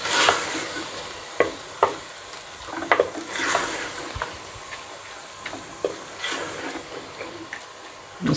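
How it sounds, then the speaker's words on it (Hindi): Keema with red chilli powder, coriander and salt fries in a pan as a spoon stirs it, giving an airy sizzling hiss broken by repeated sharp scraping clicks and knocks. "2 से 3 मिनट के लिए इसको भूनेंगे"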